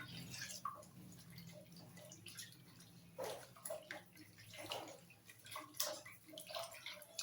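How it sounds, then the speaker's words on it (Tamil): Water being poured into a pot of mutton pepper curry, with faint, intermittent splashing and trickling that comes in uneven bursts close by. "தண்ணி ஊற்றி வேக வச்சிடலாம்."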